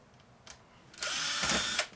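A power drill backs screws out of a laminator being scrapped, with a couple of brief clicks and then a loud, steady whir that runs about a second before cutting off.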